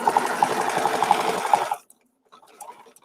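A sewing machine stitches steadily in a rapid mechanical rhythm for under two seconds, close and loud, then stops; faint talk follows in the quiet.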